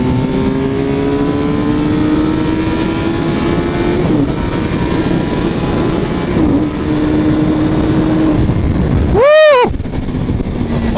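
A Suzuki GSX-R 600 sport motorcycle on a test ride accelerates hard, its engine note climbing loud and close through gear changes, with roaring wind and a brief passing sweep near the end.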